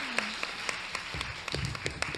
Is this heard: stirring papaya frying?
no